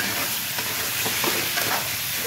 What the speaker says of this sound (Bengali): এবার কিন্তু আমি এগুলোকে ঠিকঠাক করে কষে নেব।